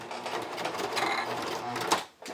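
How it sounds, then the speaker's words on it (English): A sewing machine stitches across a bulky join at the waist seam of high-waist bikini bottoms, a close, steady mechanical whirr that cuts off abruptly near the end. "My sewing machine is not happy about having to sew over it."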